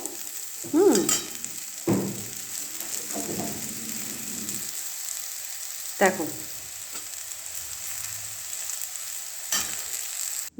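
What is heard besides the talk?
potatoes and onions frying and being stirred in a pan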